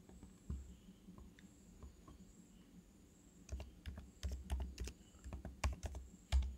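Quiet keystrokes on a computer keyboard, sparse taps at first, then quicker bursts of typing close by, with no talk.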